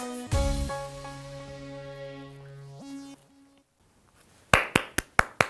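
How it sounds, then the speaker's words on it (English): After sustained musical tones fade out, a few sharp hand claps ring out, close and loud, in a quick uneven burst. "so if you liked it, come on, give us a clap"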